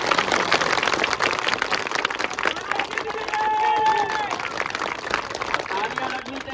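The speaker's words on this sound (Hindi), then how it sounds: "लगाओ ताली।" Crowd applause from people at a gathering in Futera, Guna, Madhya Pradesh, a dense sustained wash of many hands clapping at moderate distance, with a voice and pitched tones sounding over it partway through.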